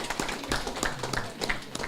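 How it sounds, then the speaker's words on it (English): Applause at a Garifuna conference, a modest crowd clapping in a steady patter of scattered hand claps, moderately distant and fairly quiet. "Give them a round of applause"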